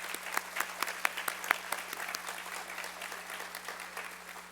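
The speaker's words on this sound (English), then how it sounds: "Let's give them a big round of applause." Audience applause at a welcome ceremony, a steady wash of many hands clapping with a few sharper individual claps standing out early, moderately distant and continuous for several seconds with no talking.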